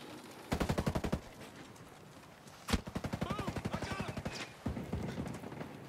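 Automatic weapon fire in the Ghost Recon Breakpoint shooter game, several rapid bursts of close, loud shots in a fast rattling rhythm separated by brief pauses.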